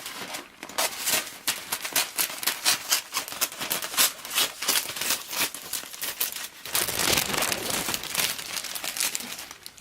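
Plastic wrap being cut and handled around a homemade Easter basket, giving a steady run of close crinkling and rustling bursts that grow denser and louder toward the end, with no talking.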